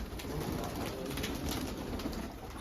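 Pigeons coo softly and repeatedly at close range over a steady background hum.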